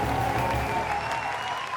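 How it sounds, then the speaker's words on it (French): Studio audience claps on a TV show, a short burst of steady applause with some tonal background sound running underneath. "applaudissez pour voir"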